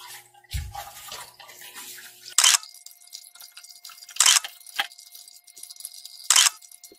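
Steady trickling water from a decorative humidifier fountain, a soft continuous wash broken by three brief louder splashing bursts spaced a couple of seconds apart.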